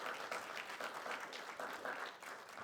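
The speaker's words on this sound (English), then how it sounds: "Let's have a round of applause for all of our service members" Steady applause from an audience at a school Veterans Day program, honouring service members: continuous dense clapping at moderate level, fairly even throughout with no voices standing out.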